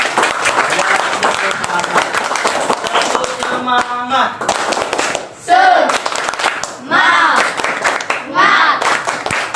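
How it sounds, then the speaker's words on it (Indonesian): Pupils of class 5B are applauded by their classroom with scattered hand clapping running underneath an adult's encouraging voice and children's chatter, the claps loud and close, with a few bursts of cheering. "kita tepuk tangan untuk anak-anak kelas 5B"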